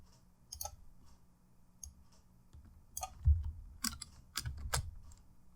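Irregular bursts of keystrokes on a computer keyboard, close and fairly quiet, with a few louder clicks clustered toward the end and no talking.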